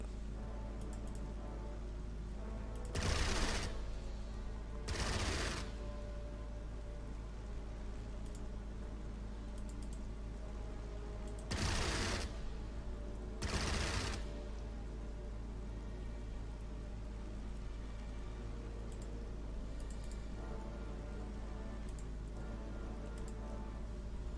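Anti-aircraft guns firing in the World War II strategy game Strategic Mind: Blitzkrieg, during the invasion of Norway: two short pairs of loud, sharp bursts several seconds apart over a steady low background hum.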